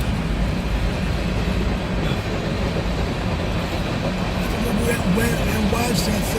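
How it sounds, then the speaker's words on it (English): A long freight train with graffiti-covered cars rolls past at close range, giving a steady, dense rumble with faint rail clatter that runs the whole time, while people talk quietly over it. "Wow, that's a long train"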